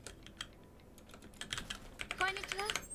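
Computer keyboard keys tapped in quick irregular bursts during a Sword Art Online: Fatal Bullet speedrun, fairly faint and close, with clusters of clicks growing busier toward the end alongside other game sounds.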